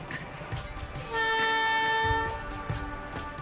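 A relief train on a remote monsoon-season railway line from Rangia Junction sounds a long, loud, steady horn blast over rumbling rail noise, then the horn stops and the train's running noise continues.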